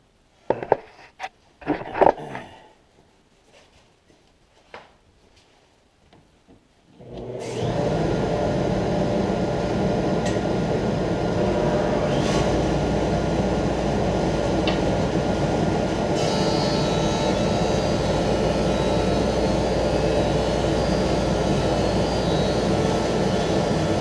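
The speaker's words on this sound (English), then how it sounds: "So I'm going to turn the vacuum system on. It'll be a little noisy." A few scattered knocks and clatters, then a loud, steady roaring whine as a workshop dust collection vacuum system starts up and runs continuously without letting up.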